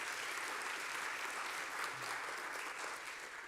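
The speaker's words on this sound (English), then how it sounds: "Round of applause." Sustained audience applause at a board of education meeting honouring graduating students, steady dense clapping filling the room at moderate level with no talk over it.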